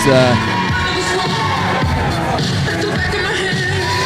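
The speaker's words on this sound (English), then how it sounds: "You might hear a few people cheer for him" A wrestling crowd at a live PWA show cheers for wrestler Jason Andrews, a loud, continuous wash of shouting and cheering voices with a few whoops and bangs throughout.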